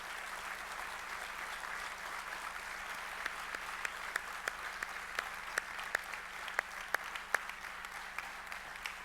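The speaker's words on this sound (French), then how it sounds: "je propose à tous les adhérents et à nos partenaires de t'applaudir chaleureusement" Members and partners at a 2016 annual general meeting applaud a colleague warmly. The soft, steady, distant clapping carries a few sharper, louder individual claps standing out toward the end, and no one speaks.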